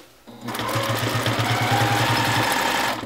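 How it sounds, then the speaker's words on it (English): Free-motion quilting stippling on a sewing machine, running right off the edge of a quilt block: a steady, fast rhythmic needle chatter that runs continuously and close for nearly three seconds, then stops. "I'm actually going to just stipple right off the edge of my block"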